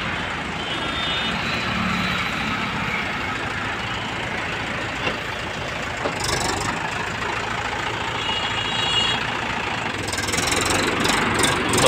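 A Mahindra 575 XP Plus tractor engine idles in a steady, even mechanical drone throughout, close by and fairly constant, with a few brief clicks and hiss bursts over it.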